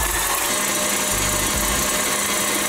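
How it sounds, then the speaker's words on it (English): Electric mixer with a whisk attachment beating eggs in a mixing bowl, a steady loud whirring drone that fills the whole span with slight wobbles in pitch. "Use a whisk attachment for the next step. And beat the eggs until they're light and fluffy."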